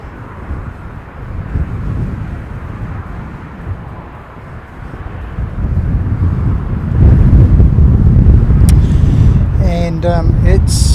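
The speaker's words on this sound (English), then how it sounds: "It's very breezy, so we're holding on to the equipment." Strong wind buffets the microphone outdoors at an airfield, a steady low rumble that swells louder after the midpoint and keeps going, with a few brief voice-like tones near the end.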